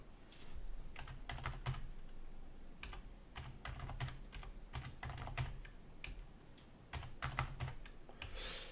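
Computer keyboard typing while a number is entered in CAD software, with irregular bursts of quick key clicks separated by short pauses, heard close up without speech.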